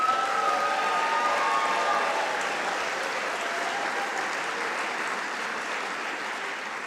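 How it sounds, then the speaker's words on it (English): Graduation ceremony audience giving sustained applause for graduating students, a dense, even wash of clapping that fades slightly over several seconds, with no talk. "a big round of applause for all of our graduating students tonight"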